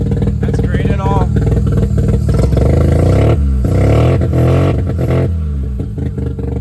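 A Mazda RX7 FC rotary engine, restarted after oil was poured into the spark plug holes, runs loud and close with an uneven, rough idle and revving, accompanied by rattling and clatter.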